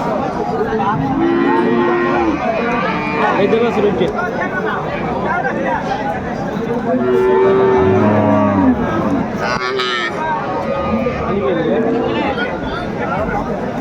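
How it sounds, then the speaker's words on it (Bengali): Sahiwal cows and calves at a busy village cattle market low and bellow in several drawn-out moos, close by, amid a crowd's chatter and people talking over them. "পাঁচ ছয়টা শাইওয়াল গাভী বাছুর আমরা দেখছিলাম"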